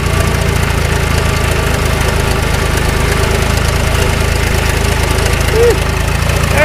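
A John Deere 2240 tractor engine chugs loud and close in a hay field, a steady rough diesel throb with mechanical knocking throughout.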